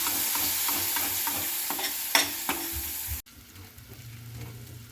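Ground masala sautés in a pan for a water chestnut curry, heard as a steady close sizzle with the scrape and tap of a spoon stirring, a few sharper knocks, then a softer, quieter frying hiss.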